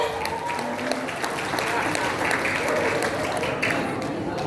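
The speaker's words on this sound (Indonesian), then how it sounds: "Tepuk tangan hadirin." Audience applause at a university ceremony for new professors in Indonesia, a steady continuous wash of clapping from a large hall, loud and even throughout, with voices mixed in.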